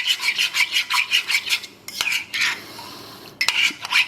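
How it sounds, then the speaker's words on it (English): Grated cheese for Roman pasta alla gricia being stirred and mashed into a slurry in a pan, making rapid rhythmic scraping and rubbing strokes close up, with brief pauses and a couple of clinks. "I'm breaking down the cheese a bit."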